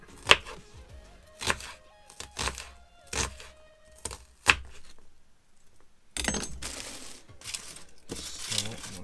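Onion being chopped on a board for a sandwich aboard a narrowboat: sharp, close knife thuds in an irregular rhythm, a handful of distinct strikes then a quicker run of denser cuts, with no talking.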